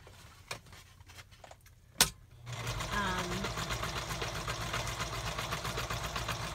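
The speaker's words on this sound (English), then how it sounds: "I'm just doing a zigzag stitch." A sewing machine doing zigzag stitching starts up after a few quiet clicks and runs steadily with a fast, buzzing mechanical rhythm, close by.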